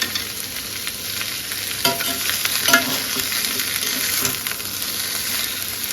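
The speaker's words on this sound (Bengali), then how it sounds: "ব্রকলি দিলাম আর এটাকে ভিজিয়ে ঝিঙে এটাকেও ভাজবো একটুখানি" Broccoli and ridge gourd fry in a pan with a constant hissing sizzle and occasional stirring scrapes, heard close and steady with no voices.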